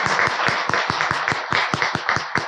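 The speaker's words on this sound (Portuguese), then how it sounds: "Mais uma salva de palmas," Steady, lively clapping from an audience at a women's tea event with a guest speaker, sharp individual claps running evenly through the whole stretch with no talking over it.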